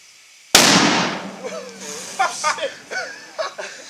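A sudden loud outdoor explosion bursts out with a sharp crack and a long decaying rumble, followed by people talking and laughing afterward.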